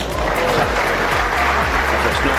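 Sustained applause and cheering fill a snooker arena at the World Championship as the crowd rises in a standing ovation for both players, a dense, loud, continuous roar of clapping.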